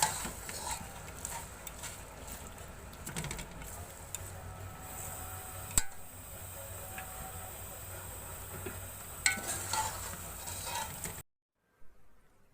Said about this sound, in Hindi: अब इस लहसुन को थोड़ी देर भून लूँगी।